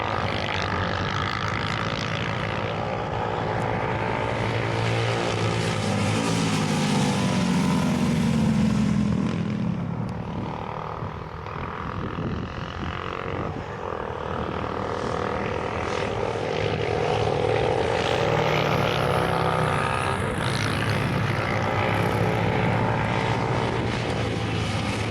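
Vintage-style racing cars lap the one-mile Lydden Hill circuit, a continuous loud engine roar swelling and fading as cars pass near and then recede, with no speech over the sound.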